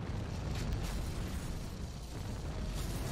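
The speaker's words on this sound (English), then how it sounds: "Oh, okay, yeah, explosions." Continuous low rumbling explosions from the Wii game 007: Everything or Nothing, dense and steady throughout with deep booming energy.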